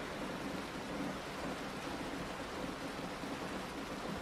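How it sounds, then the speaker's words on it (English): Steady rain falls on the roof of a van parked in a forest at night, a soft, even hiss of drops with no pauses, faint and constant throughout. "we'll settle into our van as raindrops fall on the roof and the forest surrounding us"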